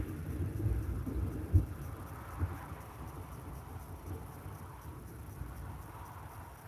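Distant rumbling thunder from an approaching storm in Burgundy, France, a low continuous roll with a couple of soft dull cracks early on, faint and spread out over quiet outdoor ambience.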